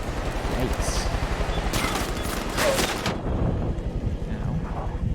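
Rapid bursts of gunfire from the video game Far Cry 6, loud and dense, with a fast volley in the first three seconds and continuing shots over rumbling in-game noise.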